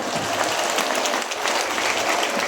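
Steady applause from an audience at a Cordillera community event in La Trinidad, dense many-handed clapping that continues evenly throughout with faint crowd murmur beneath.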